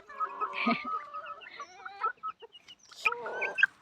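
Mini Cochin chickens on a farm cluck and murmur in a steady, busy stream, with several birds calling close by and a few louder squawks near the end.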